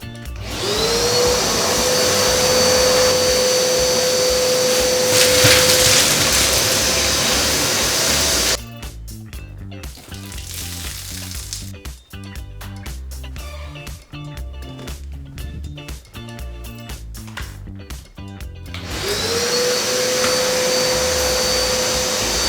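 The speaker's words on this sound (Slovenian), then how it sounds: "Tako je, če je pri bajti vodni sesalec." A wet vacuum cleaner with a water filter runs loudly with a steady roaring whine, then stops for several seconds of clattering handling noise before starting up again and running steadily to the end.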